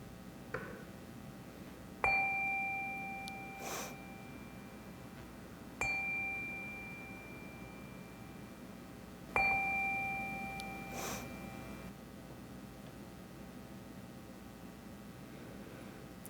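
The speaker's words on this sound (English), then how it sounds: "we take a moment to settle our minds and calm our hearts with the ringing of our chime" A chime rings three times at spaced intervals during a Unitarian Universalist Sunday service, each clear metallic tone sustaining and slowly fading over a quiet, hushed room.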